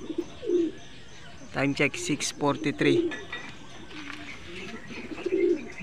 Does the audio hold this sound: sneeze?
no